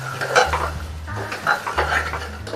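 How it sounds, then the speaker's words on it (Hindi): Spices being roasted with potatoes and black chickpeas in a pressure cooker, a spoon scraping and knocking against the metal pot in repeated strokes over a soft sizzle, close and clear without talk. "अब इसको भूनेंगे हम"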